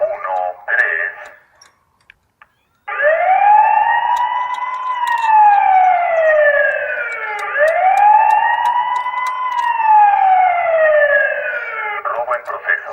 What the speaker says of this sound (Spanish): Estas alarmas vecinales que ustedes acaban de ver